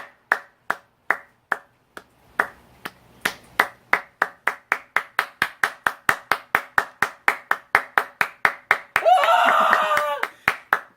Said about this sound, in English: Clap on. Clap to stay on.